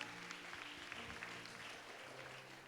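Applause from a church congregation at a Sunday service fills the room, dense and steady throughout, with faint voices mixed in beneath the clapping.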